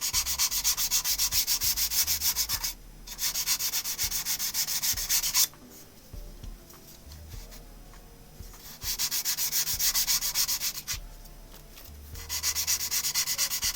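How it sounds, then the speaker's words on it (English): Light sanding by hand along the grain of a turned wood piece makes a steady, close, dry rasping rub in several long strokes separated by short pauses. "Doing some light sanding with the grain to get rid of any tool marks from the abrasive."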